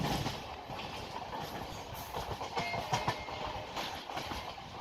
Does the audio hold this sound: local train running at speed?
yes